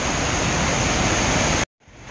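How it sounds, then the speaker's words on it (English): Water pours steadily over a dam spillway as a broad, loud, even rush close by, then cuts off abruptly and leaves only faint outdoor ambience. "I walk down the trail and check out this waterfall in this dam here."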